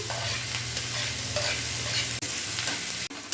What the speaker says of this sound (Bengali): তেলের মধ্যে এখানে একটা পেঁয়াজ কুচি দিয়ে দিলাম